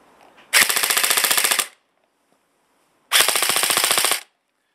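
A full-metal APS M4 RIS airsoft rifle with full blowback fires two fully automatic bursts of about a second each, giving a rapid, loud, even rattle of clacking shots with a short silence between them.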